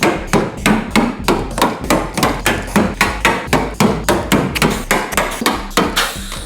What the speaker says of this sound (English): all that's left to do now is send those rivets home